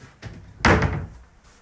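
Wardrobe doors in a rented flat are pushed shut: a light tap, then a solid wooden thud as they close, fairly close and loud.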